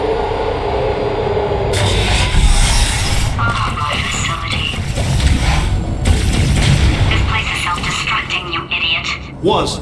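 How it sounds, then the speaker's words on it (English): A deep, continuous tremor rumble shakes the facility in the video game Portal 2, loud and steady with booming swells, while a voice talks over it. "Programmed in one last tremor for old time's sake."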